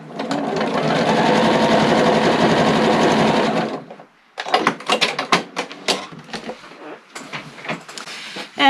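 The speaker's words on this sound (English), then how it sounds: "So I'm going to sew that down using that 1/4-inch." A sewing machine stitches fabric strips for a quilted placemat, a loud steady rapid whir for about four seconds, then stops, followed by scattered clicks and fabric handling noises.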